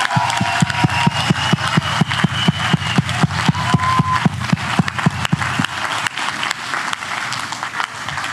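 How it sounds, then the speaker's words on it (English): Applause from the audience at a Democratic Alliance political event in eThekwini, KwaZulu-Natal, continues throughout. The clapping is loud and rhythmic, settling into near-unison beats before becoming a looser, even patter, with no speech over it. "Let's give them a round of applause again."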